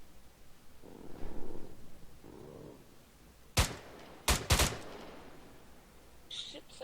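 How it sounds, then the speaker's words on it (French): Gunfire in the military shooter ArmA 3 during a milsim session: after some muffled voices, one sharp loud shot rings out, then a quick pair of close, loud bursts, followed by quieter background sounds. "ça tire, faites attention"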